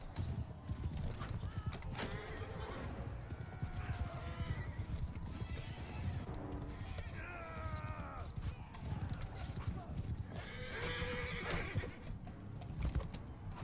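Rapid hoofbeats of a galloping horse in the video game Mount & Blade II: Bannerlord, with repeated neighs and whinnies, steady and continuous, with muffled voices in the background.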